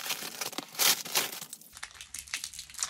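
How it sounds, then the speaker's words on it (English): Packaging from Amazon deliveries crinkles and tears as the packages are opened, close, loud bursts of crumpling plastic and paper in quick irregular handfuls, with no talking. "So let's open up these packages and see what we got."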